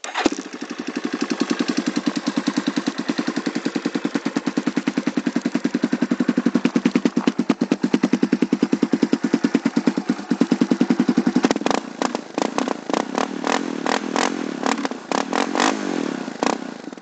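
A cold Yamaha Warrior ATV with a full FMF Power Core 4 exhaust and Mega Bomb header idles close up with a rapid, even popping thump, then breaks into sharper, uneven bursts as it is blipped near the end.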